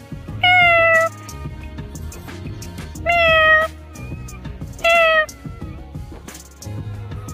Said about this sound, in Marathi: बाबा आमच्याकडे 2 मांजरीचे पिल्ल आहे